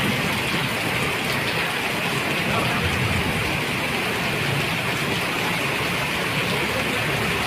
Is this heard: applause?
no